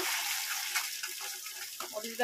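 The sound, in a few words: onion and garlic paste added to hot oil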